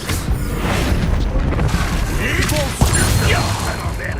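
A Bombarda spell explodes with a heavy boom amid dense, rumbling game combat noise in Hogwarts Legacy, one sharp impact standing out near the end of a continuous roar.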